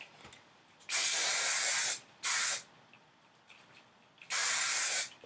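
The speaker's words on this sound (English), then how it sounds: "Now I'm going to take some hairspray" Hairspray from an aerosol can misted over loosely curled hair with extensions, in three close hissing bursts: a long spray of about a second, a short one, then another long one, with quiet gaps between.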